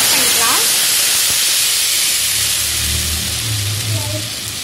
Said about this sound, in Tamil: இது நல்லா கொஞ்சம் கொதிக்கட்டும்.